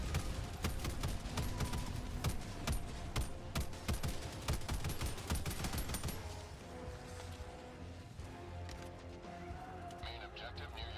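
Gunfire in the video game Helldivers 2 comes as rapid, dense volleys of shots for the first several seconds, then thins out into sparser, quieter bursts, with voices murmuring faintly underneath.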